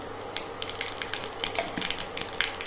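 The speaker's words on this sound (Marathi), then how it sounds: "आता जिरे मोहरी टाकून घेऊया थोडासा हिंग टाकूया" Cumin, mustard seeds and asafoetida sizzle in hot oil for a tempering, a close, steady frying hiss scattered with small crackles and pops, with no voices.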